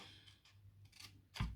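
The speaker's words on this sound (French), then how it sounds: "Ensuite, et ben vous coupez en tournant votre papier." Scissors snip through paper while it is turned to cut each side for a handmade pencil-box gift, giving soft, faint, scattered cuts with one sharper snip near the end.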